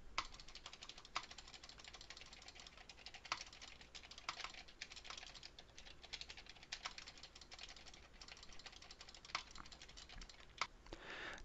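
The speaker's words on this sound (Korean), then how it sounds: "키보드와 마우스 버튼을 눌러보도록 하겠습니다" Computer keyboard keys and mouse buttons being pressed, picked up through a Xenics TITAN WH7 headset microphone: a faint, steady stream of irregular clicking and tapping across the whole stretch, with no talk.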